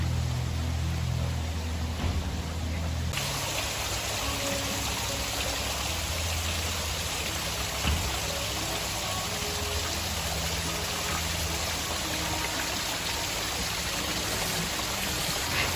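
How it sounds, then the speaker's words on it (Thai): An artificial waterfall at a cafe in Bang Khun Thian, Bangkok, pours steadily, a close, continuous wash of splashing water with a soft low rumble and no talking. "แค่ได้นั่งฟังเสียงน้ำตก"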